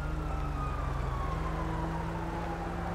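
An ambulance siren in Grand Theft Auto 5 wails loud and close in a continuous sweeping tone, with the vehicle's engine rumbling underneath and no talk.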